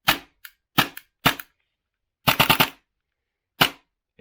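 AAP-01 airsoft pistol firing on semi-auto, a series of sharp, snappy close shots, some singles and a quick burst of four, separated by silence.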